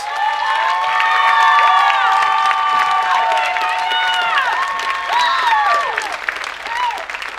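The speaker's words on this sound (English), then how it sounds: "Please give these young people a round of applause." A graduation audience at Franklin High School bursts into loud, sustained applause for honored students, with cheering and high whoops rising over the dense clapping throughout.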